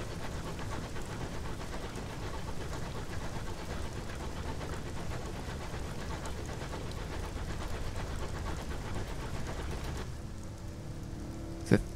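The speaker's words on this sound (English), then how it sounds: "Sounds like a thunderstorm." A thunderstorm with heavy rain in the video game Sunless Skies makes a dense, steady hiss and rumble that fills the whole stretch, fairly soft, with a brief sharp sound near the end.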